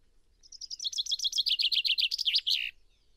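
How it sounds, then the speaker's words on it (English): A chaffinch sings one full song: a bright, close series of chirping notes that speeds into a rattling descending trill and ends with a quick flourish, alone against a quiet background. "the chaffinch song is one of the easiest to learn"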